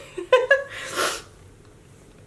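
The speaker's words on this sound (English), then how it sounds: "I have to sneeze" A single sneeze, a quick gasping intake followed by a sharp burst of breath, close up, then quiet room tone.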